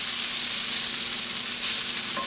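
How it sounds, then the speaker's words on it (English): Pasty filling frying in a pan for corned beef pasties gives a steady close sizzle throughout, with a faint scrape of stirring near the end. "Just keep scraping the bottom so nothing sticks."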